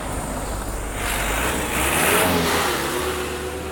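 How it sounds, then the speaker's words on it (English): A water truck's engine drones steadily, then swells louder as it drives past and fades, a continuous mid-pitched mechanical rumble heard alone without talk. "Water trucks."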